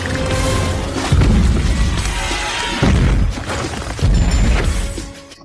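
Gunpowder-laden ships blow up in a battle, sending three heavy booming blasts over a continuous rumbling roar.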